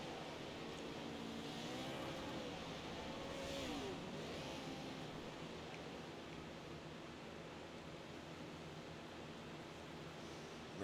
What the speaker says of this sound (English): comes the last of the trucks over the hump